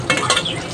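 Garlic sautéing in a pan for duck adobo, a short burst of sizzling with a quick stir and light scrape of the utensil.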